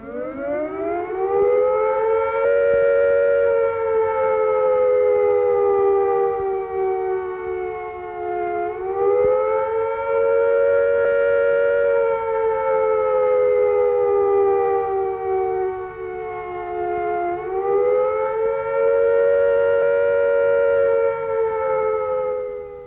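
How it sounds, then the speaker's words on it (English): UK civil defence air attack warning siren from 1973, a loud continuous wailing tone rising and falling slowly in long cycles, heard alone without talk. "Here is a reminder of what the air attack warning sounds like."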